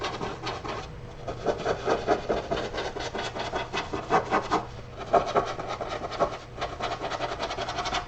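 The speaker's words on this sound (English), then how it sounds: "So just scrub some warm white through those letters" Repeated rough scrubbing strokes of a brush working warm white paint into lettering on wood, rhythmic bursts of rasping with brief pauses, close up and without speech.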